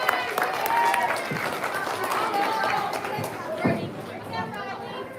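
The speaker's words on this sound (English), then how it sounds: "So let's give them all a big round of applause." A crowd at a livestock hog show claps and cheers amid busy chatter and shouts, a moderately loud wash of applause mixed with voices.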